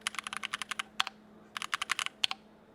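Rapid clacking keystrokes on a Keychron Q4 wired custom mechanical keyboard, heard close and alone in two quick bursts separated by a brief pause, with a few sharper, louder key hits standing out.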